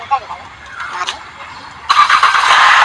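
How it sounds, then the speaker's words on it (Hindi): A Tata Indica eV2 with a self-starter problem cranks briefly and then fires, its engine settling into a steady close running hum, with someone talking over the start. "एक ही सेल्फ में इंजन स्टार्ट हो जा रहा है"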